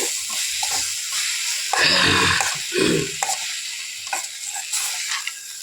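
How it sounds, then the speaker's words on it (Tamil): Tamarind being stirred and fried in a pan for coriander chutney, a continuous sizzling hiss with louder bursts of scraping and stirring in the middle, close and alone. "புளியை போட்டு நல்லா ஒரு வணக்கு வணக்கிட்டு"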